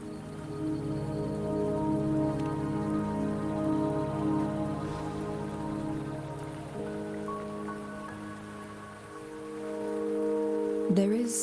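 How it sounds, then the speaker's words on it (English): Steady rain patters down in the video game Wuthering Waves under a soft, sustained musical drone, with a brief tonal flourish near the end. "Don't worry, the rain won't last much longer."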